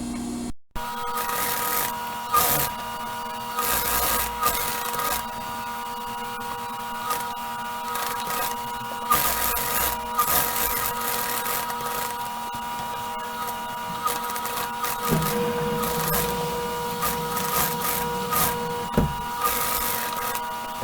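A sewing machine stitches a surgical scrub cap and back tacks to finish, its motor humming steadily with bursts of running broken by brief pauses, close and fairly quiet, with no talking.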